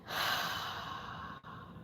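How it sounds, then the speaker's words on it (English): A slow, deep breath drawn in and let out during a guided relaxation exercise, one long steady airy exhale-like wash with a brief break near the end, close and fairly loud with no talking. "Breathe in and breathe out"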